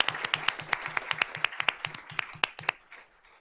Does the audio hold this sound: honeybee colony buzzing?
no